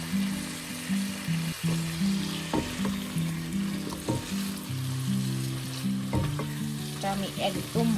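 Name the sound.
spices and teasel gourd frying in a pan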